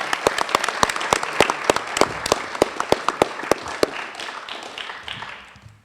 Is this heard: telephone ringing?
no